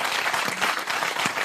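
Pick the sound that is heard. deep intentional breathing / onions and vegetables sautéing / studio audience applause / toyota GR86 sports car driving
studio audience applause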